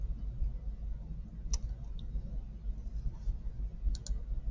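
Two or three crisp, quiet mouse clicks, spaced a few seconds apart over a low steady hum, select a pie chart in Excel.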